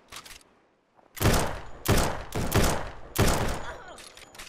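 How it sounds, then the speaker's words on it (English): Repeated loud gunshots from the video game No One Survived, fired in quick clustered volleys at close range, with a short lull near the start before heavy bursts follow. "Who's shooting at me?"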